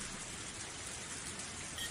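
Steady rain falls in a continuous, even hiss of drops on surfaces, with no voices and a faint low rumble beneath.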